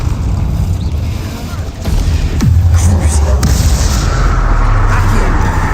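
Spell blasts and booming explosions in Hogwarts Legacy combat, loud and overlapping with low rumbling impacts and crackling bursts over a dense game soundscape.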